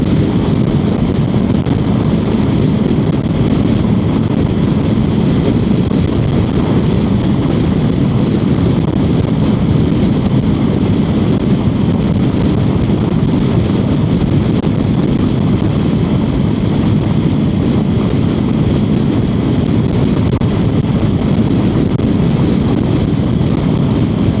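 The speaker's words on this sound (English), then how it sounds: "Super duper windy." Strong, steady wind roars and buffets the microphone continuously, a dense low rumble with no voices.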